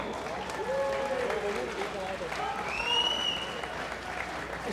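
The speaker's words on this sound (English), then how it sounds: "let's give a warm round of applause for both of these brawlers." A crowd applauds two bare knuckle fighters after a bout at a fair expo center, steady clapping and cheering heard alongside talk that carries over it.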